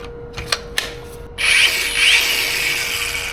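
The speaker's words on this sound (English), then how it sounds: "We're going to cut that bolt off." An angle grinder spins up and cuts into a bolt during a van build, giving a loud, steady high whine after a few brief knocks and clicks, close and with no talk.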